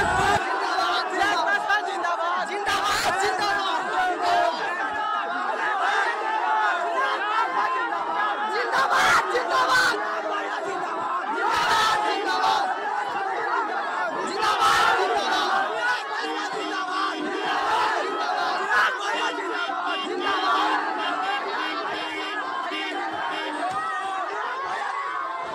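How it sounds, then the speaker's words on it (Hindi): Large crowd at a gathering in Khusrupur, Patna, a steady roar of many voices shouting and chattering at once, sustained and fairly loud throughout with occasional louder surges. "दोस्तों लोग यहाँ पे बहुत ज़्यादा मात्रा में भीड़ हो चुकी है"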